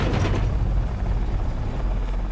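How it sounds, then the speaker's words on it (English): A rescue helicopter flies over mountains, its rotor and engine a loud continuous roar with heavy low-end thumping, heard from inside or very close. "as the helicopter makes its way over the mountains"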